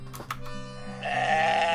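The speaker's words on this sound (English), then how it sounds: "I'm gonna make all the sheep baa." In the video game Moirai, a sheep gives a couple of brief baas, then one long, loud, steady bleat with a bright, buzzy harmonic tone, close up and with no voices.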